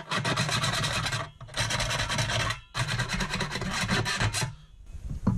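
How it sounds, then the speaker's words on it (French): A metal file rasps burrs off the cut edge of a 5-litre beer keg in three long, steady scraping passes with brief gaps between them, close and harsh, with no talk. "il va falloir enlever les bavures. On peut le faire avec une lime."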